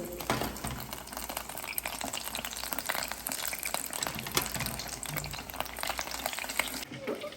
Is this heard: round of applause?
no